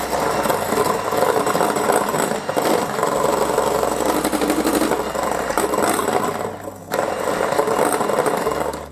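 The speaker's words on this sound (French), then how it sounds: "Et je continue à fouetter l'ensemble." An electric mixer whisks egg whites with sugar for a chocolate Yule log, giving a steady close whirring motor drone that runs without a break and dips only briefly near the end.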